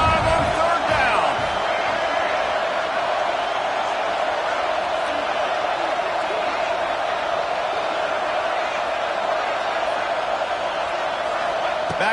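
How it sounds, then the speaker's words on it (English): Ohio State Buckeye football crowd roars steadily on third down, a loud, unbroken stadium wash that holds at one level throughout, with a commentator talking over it. "Hang on, Sloopy, the Buckeye crowd alive on third down."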